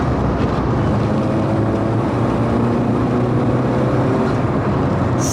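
An MG Metro's small engine drones steadily while the car drives, a loud continuous rumble with road and wind noise mixed in and no talking.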